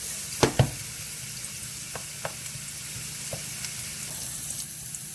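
Carrots frying in a pan for a pork teriyaki rice bowl, a steady soft sizzle opened by two sharp clatters of a utensil, with sparse lighter taps after, no voices.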